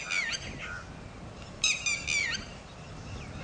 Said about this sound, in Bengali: ওটা কি পাখি রে?